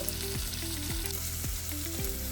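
Green chillies, tomatoes, garlic cloves and onions fry in a pan for a chutney, with a steady, loud sizzle running throughout and gliding tones repeating in the background.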